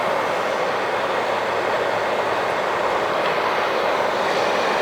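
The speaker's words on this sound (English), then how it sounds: "now you can hear the fan blowing big time" A Spider Grills Venom controller fan blows air into a Weber kettle grill, making a loud, steady broadband whoosh that holds without a break from start to finish, with no voices.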